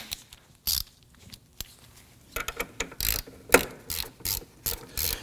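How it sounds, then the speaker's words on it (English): Ratchet clicking as a rear wheel hub bolt is snugged down on a 2015-2024 Nissan Murano, sharp close pawl clicks in irregular bursts that grow denser toward the end. "I'm going to go ahead and use my ratchet to snug this down"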